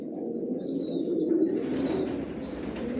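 Racing pigeons of the Johnson line coo in a continuous low, throaty murmur close by, with a faint higher chirp partway through and no speech.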